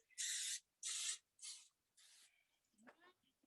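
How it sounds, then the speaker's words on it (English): Four short hissing bursts of cooking spray in quick succession, the last ones softer, followed by a faint voice. "let's go ahead and spray our pan"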